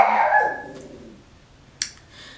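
A dog barks once, loud and close, at the very start, the sound trailing off, followed by quieter room noise and a single sharp click or yip near the end.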